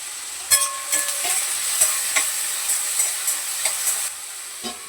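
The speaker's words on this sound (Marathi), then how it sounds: "बटाटा एक दोन वेळा हलवून द्यायचा मध्ये आणि असा खाली चिकटू नाही द्यायचा कढईला" Potatoes fry in a kadai and are stirred now and then: a loud, close sizzle runs throughout, broken by a series of spatula scrapes and knocks.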